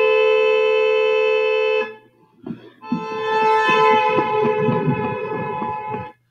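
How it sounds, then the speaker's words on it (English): Two loud car horns blare one after another, each holding a steady tone as they pass, with traffic rumbling underneath. "what it sounds like when cars are moving past you and they are honking"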